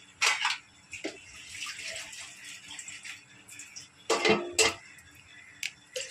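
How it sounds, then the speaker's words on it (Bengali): Water poured into a kadai for boiling pasta, heard as short splashing bursts mixed with faint clinks and light handling noise, close up, with no speech. "কড়াতে আমি জল দিচ্ছি পরিমাণ মতো"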